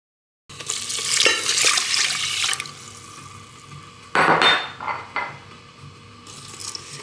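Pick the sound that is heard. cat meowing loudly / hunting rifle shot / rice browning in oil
rice browning in oil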